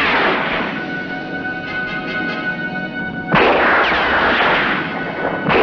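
Battle gunfire from a 1953 western war film, with a dense, steady roar of shots and a louder blast about midway, loud and continuous, with no speech.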